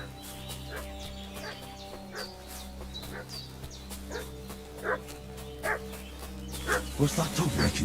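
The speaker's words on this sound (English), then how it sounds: "What's that dog making such a fuss about?" A dog barks in Kingdom Come: Deliverance 2, with repeated barks growing louder and closer toward the end, set among chicken clucks and a drone of background music.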